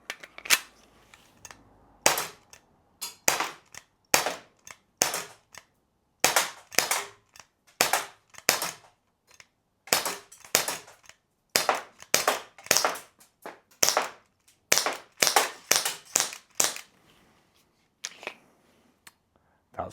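A Glock 17 Gen 5 BB blowback airgun fires a magazine as a long series of sharp, loud cracks, some in quick doubles and others spaced a second or so apart, with quiet gaps between.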